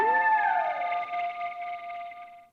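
A laser-beam synth sample, pitched down two semitones, gives a short downward-bending tone that settles into a steady bright hum and fades out after about two seconds.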